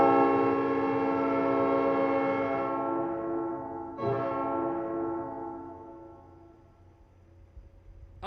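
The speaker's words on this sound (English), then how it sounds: "I have train horns too." A played train horn sound effect blares a rich chord during a live Bruins versus Rangers preseason hockey commentary stream. One sustained blast fades, a second sounds, and both trail off into quiet.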